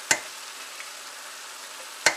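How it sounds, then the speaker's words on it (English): A sturdy flat-bottomed wooden spatula mixes chicken with a jar of Patak's mild curry, giving two sharp scraping knocks about two seconds apart over a quiet steady sizzle. "Got my sturdy wooden spatula."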